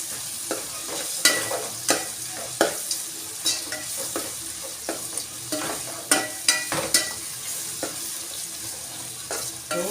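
Stirring a pan of spices frying with asafoetida, a spoon scraping and knocking in quick repeated strokes over a soft steady sizzle, close up, no talking.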